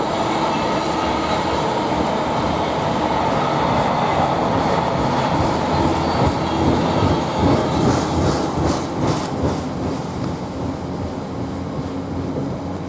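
A container freight train departs a railway station at Didcot Parkway with a loud, continuous rumble of wagons and rolling wheels passing close by, and a rhythmic clatter that builds toward the end.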